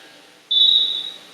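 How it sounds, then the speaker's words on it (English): A referee's whistle at a high school girls' volleyball match sounds one sustained shrill blast of about three-quarters of a second, loud and clear over faint gym ambience. "The whistle blows, and here's Melvin's serve."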